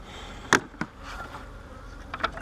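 Honey bees buzzing around an open hive during colony transfer, a faint, steady hum with a couple of louder individual bees flying close past.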